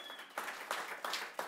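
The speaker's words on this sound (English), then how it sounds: "Audience, give us a cheer." An enthusiastic audience in the conversation room at the Royal Institution in London applauds faintly, with a soft steady wash of clapping and a few sharper bursts.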